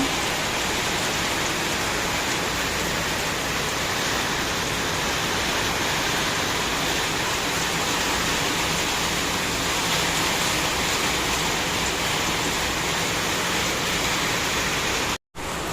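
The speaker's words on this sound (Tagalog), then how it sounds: "sobrang lakas na ng ulan" Heavy, steady typhoon rain pours down in a dense continuous roar in San Pablo City, Laguna, unbroken for the whole stretch before cutting off abruptly at the very end.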